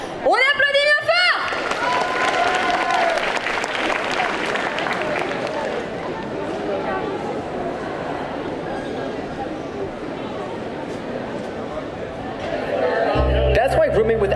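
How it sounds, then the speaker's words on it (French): Applause and crowd chatter rise from an audience at a cosplay parade in Quimper, greeting a cosplayer; a dense, steady wash of clapping runs throughout, with talk and noise layered over it. "On applaudit bien fort"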